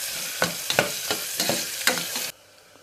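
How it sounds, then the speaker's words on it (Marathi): Onion frying in a pan is stirred briskly, with loud close sizzling and a rhythmic series of scraping strokes that stops abruptly, leaving near silence. "हलवून घेते चांगला, 2 मिनिटं फ्राय होऊ द्यायचा चांगला कांदा"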